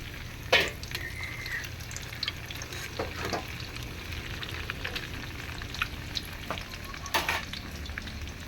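Tofu frying in a pan with a steady low sizzle, broken by a few sharper crackles and spatters, alone with no talk.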